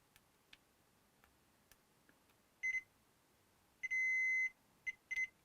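A multimeter in continuity mode beeps while probing an Xbox circuit board, giving a few short high-pitched beeps and one longer sustained tone, separated by faint probe ticks in a quiet room.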